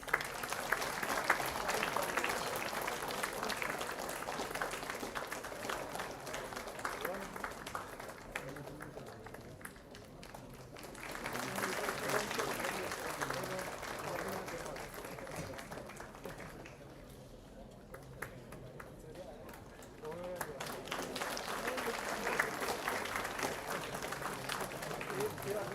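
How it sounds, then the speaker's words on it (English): A conference audience applauds steadily, with dense clapping that swells and eases over several waves and carries on throughout. Voices speak over the clapping at times. "Keep applauding, please."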